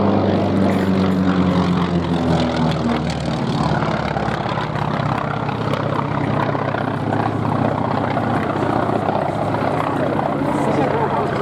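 A North American T-28 Fennec performs at the Duxford airshow, its aircraft engine a loud, continuous propeller drone that holds steady throughout, with a voice speaking over it.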